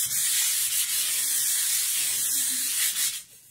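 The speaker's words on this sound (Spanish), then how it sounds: "Vamos a lijar, a retirar el polvillo" Hand sanding of painted cardboard gives a steady, loud scratchy rubbing that runs almost continuously, then tapers off near the end.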